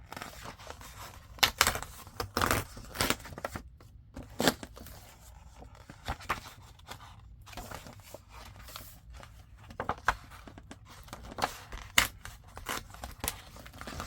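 Pages are torn out of a ledger book being made into a faux leather art journal, giving sharp ripping and crackling paper bursts in irregular clusters with quieter pauses between them, close to the microphone.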